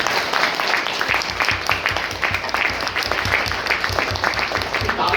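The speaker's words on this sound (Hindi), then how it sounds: "वो ताली बजा दो।" Audience applause at a youth day talk, a dense steady wash of many hands clapping throughout, loud and sustained with some voices mixed in.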